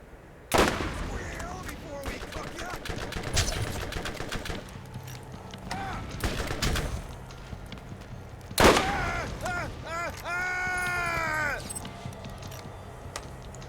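Borderlands gunfire from an incendiary weapon: sharp, close shots that punctuate a busy game soundscape, one hard crack standing out, followed by warbling tonal effects. Muffled voices sit faintly underneath.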